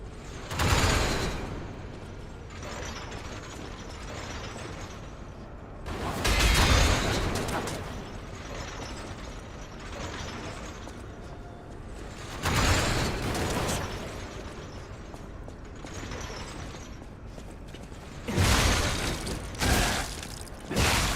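Gatling gun fire and explosions in the game Lies of P, with heavy booming blasts roughly every six seconds rising over a continuous rumbling, crackling background of combat.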